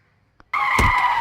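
Tires skidding as an aircraft touches down on landing, a sudden loud, close screech starting abruptly and sustained with a harsh whine and one stronger scrape burst, with no talking.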